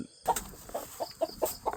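Mother hens cluck close by, a quick run of short, evenly spaced clucks following a brief moment of quiet.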